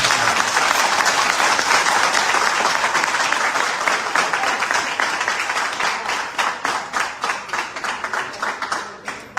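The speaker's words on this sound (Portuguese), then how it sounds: "Por favor, uma força de salvas." Audience applause in an auditorium after a protest statement is read, a loud continuous ovation that thins toward the end into scattered, separate claps.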